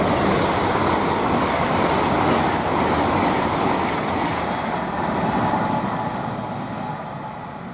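A Class 800 IET train, unit 800-309 running London Paddington to Weston-super-Mare, rushing past at speed on the main line at Goring & Streatley, a loud broad roar that slowly fades as it recedes.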